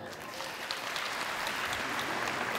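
Clapping from a theatre crowd at a Christmas comedy show at the Petruzzelli fills the hall for a few seconds, a continuous, even patter from many hands at moderate loudness.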